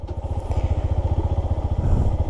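A motorcycle engine chugging close by in a fast, even pulsing rhythm that grows slightly louder toward the end, with no talk.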